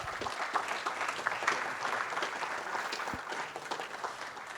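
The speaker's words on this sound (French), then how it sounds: "Je pense qu'on peut les applaudir." Conference audience clapping after a panel on the circular economy in building sites, steady and fairly soft, a hall full of hands at an even level throughout.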